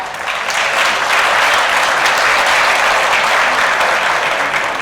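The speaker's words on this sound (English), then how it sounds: "Give yourself a round of applause." Loud, sustained applause from an audience at a monthly company celebration congratulating app challenge finishers, dense clapping swelling quickly and holding steady to the end.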